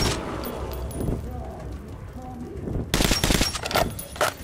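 Sniper rifle shots in Metro 2033 Redux, sharp loud cracks bunching near the end after quieter game ambience and scattered impacts.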